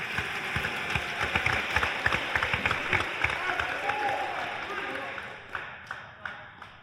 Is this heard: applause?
yes